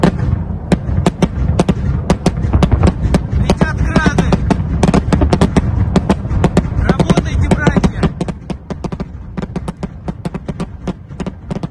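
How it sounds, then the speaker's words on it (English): Russian rockets firing toward Ukraine in a war news clip: a dense, loud barrage of sharp cracking bursts in rapid irregular succession over a constant low rumble, with roaring launch whooshes mixed in. "The caption is Russian rockets unload on Ukraine"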